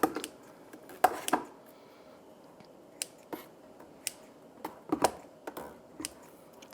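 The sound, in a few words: kitchen shears cutting up stewed tomatoes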